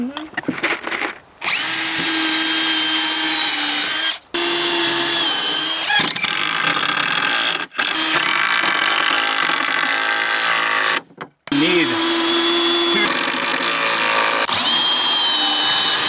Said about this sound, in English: Cole, do you want to pre-drill or throw screws in? Yeah, I can pre-drill